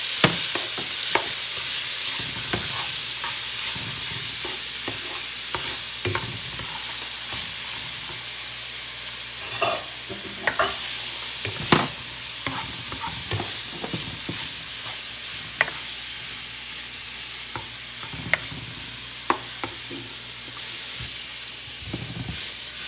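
Veggie chunks cook in a pot for a Jamaican-style brown stew, giving a continuous bright sizzling hiss with scattered spoon scrapes and clacks against the pot, close and steady with no talking.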